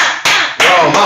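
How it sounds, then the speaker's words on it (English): Applause in two broad bursts of dense, noisy clapping with a short gap between them, close and fairly loud. "Again, that's applause, not head banging against the wall."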